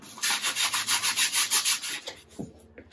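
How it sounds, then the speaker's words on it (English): Rhythmic back-and-forth sanding along the edges of a wooden ON18 model railroad deck, steady rasping strokes about every quarter second, close and clear, ending with a few scattered knocks and handling sounds. "Just a little sanding around the edges."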